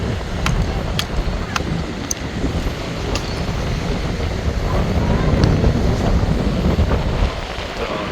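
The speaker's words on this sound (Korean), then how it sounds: "파도가 억수로 치고 있네요" Steady roar of sea waves and wind noise buffeting the microphone on the coast near Homigot, South Korea, with a few faint ticking clicks over the surf.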